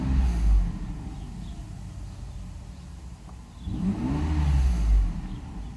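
A Mercedes 600SL engine rumbles along while driving, fading to a softer stretch mid-way and then swelling again with a rising rev near the end. The sound is close and continuous, with no voices.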